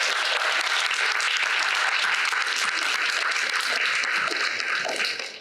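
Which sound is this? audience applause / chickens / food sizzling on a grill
audience applause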